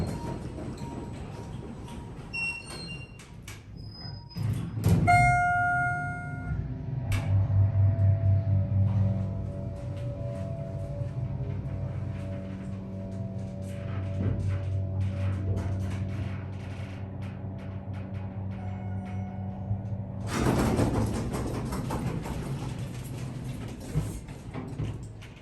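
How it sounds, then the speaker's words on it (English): A Schindler MT hydraulic elevator motor in a tall museum pyramid hums steadily for a long stretch after a clunk of doors and mechanism, a low continuous drone heard from inside the car, ending with a louder shift in sound. "That motor sounds exactly like the one in the old Saks Fifth Avenue."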